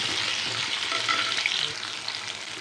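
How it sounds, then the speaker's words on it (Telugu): Drumstick (moringa) pods frying in oil in a pan for a drumstick tomato curry, a steady close sizzle with small crackles and pops throughout, no talking. "ములక్కాయలు కొంచెం పచ్చిగా ఉంటాయి కదా అందుకే నూనెలో ఫ్రై చేస్తున్నాం"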